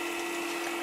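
Keurig coffee maker filling a cup, a steady close hum with a faint watery hiss and no voices.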